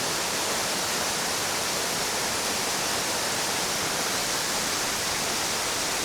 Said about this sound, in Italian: Eccoci arrivati alla famosissima cascata.